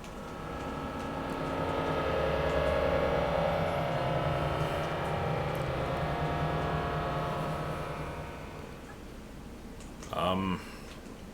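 Tomb Raider 3 video game mechanism moving water between tanks, heard as a steady, loud churning and rumbling drone that runs throughout, with a brief swelling sweep near the end.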